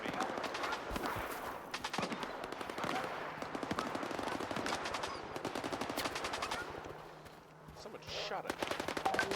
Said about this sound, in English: They're not shooting at me.